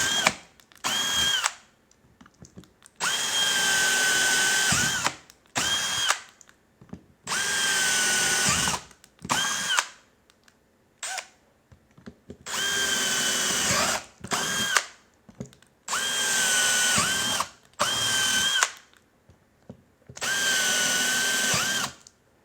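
A power drill bores a hole in a motorcycle part at an audio shop, running in repeated bursts of a few seconds each with short pauses between, loud and close, with no talk.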